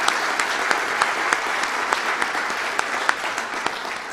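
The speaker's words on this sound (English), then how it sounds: "Let's give them a round of applause." Steady, full applause from a banquet audience at the DWU 2021 Legacy Banquet honouring donors at a giving level, many hands clapping in a dense continuous wash with occasional sharper claps, sustained evenly throughout without speech.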